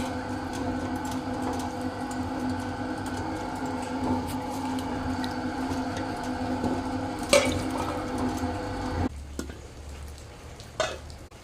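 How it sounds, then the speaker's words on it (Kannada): A mixer grinder grinds masala for a cowpea curry, its motor giving a steady, close, even whine with a humming drone that runs for about nine seconds before cutting off, followed by a few faint clicks. "ನೋಡಿ ಇಲ್ಲಿ ಇವಾಗ ಮಸಾಲ ಗ್ರೈಂಡ್ ಆಗ್ತಾ ಇದೆ"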